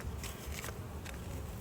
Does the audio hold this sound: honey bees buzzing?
yes